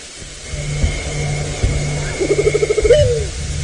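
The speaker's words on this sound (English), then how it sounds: "That's the southern white-faced Scops owl." A southern white-faced scops owl call plays from a recording: a short run of quick, evenly spaced soft hoots rising into a final drawn-out note, fairly close, over a low steady hum with faint background rumble.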